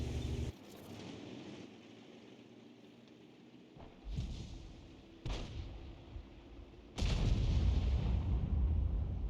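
Tank cannons fire in a video game: three or four heavy booms a second or so apart, each with a rumbling tail, over a low ambient battlefield bed.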